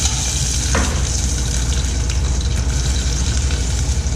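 Jalapeno fries in a hot pan while making homemade ramen, giving a steady, close, crackling sizzle with a brief swoosh as the pepper lands early on.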